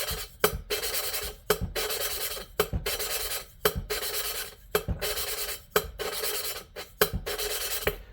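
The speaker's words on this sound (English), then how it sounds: "I'm pulling the valve out with the tool, spinning it, and dropping it back in" A valve is lapped into a cylinder head, giving repeated gritty rasping strokes about a second long, each broken by a brief pause and a small knock as the valve is lifted and dropped back, close and loud with no talk.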